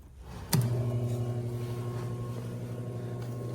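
Pump of a Mytee Lite 8070 heated carpet extractor switching on with a click, then a steady, close electric hum with a clear tonal whine that runs on alone.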